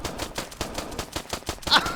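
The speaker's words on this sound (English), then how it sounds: "It's just the sound of that gun is very quiet, because sometimes Arma be quiet like that" Quiet, unsuppressed gunfire in the military video game Arma, heard as a rapid run of soft, evenly spaced shots like an automatic burst, with a faint higher blip near the end.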